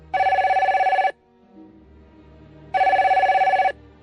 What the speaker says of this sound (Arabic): بعد أقل من ربع ساعة رن هاتف الرجل